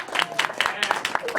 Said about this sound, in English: Now everyone applaud for him.